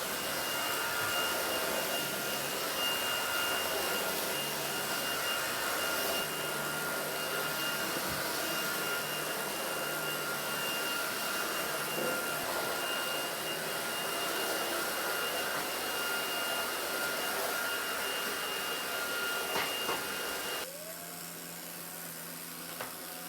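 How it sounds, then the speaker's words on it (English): A Powerffy cordless vacuum cleaner running on a rug, a loud, steady high-pitched whine and airflow rush that holds for about twenty seconds before dropping to a lower hum, with no talking. "We'll go ahead and test out the vacuum on this rug here."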